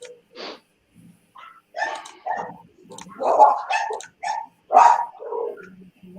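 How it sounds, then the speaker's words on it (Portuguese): A small dog barks in short, sharp yips scattered across several seconds, indoors and fairly close, with brief whimpering sounds between the barks. "Coloca o cachorrinho no mudo aí, Luiz."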